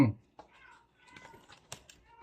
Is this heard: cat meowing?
yes